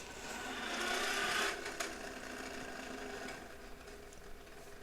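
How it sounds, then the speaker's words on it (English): Toy bubble lawnmower whirring steadily in the background, a faint buzzing motor hum with a few clicks, running alone without talk. "It's a bubble lawnmower."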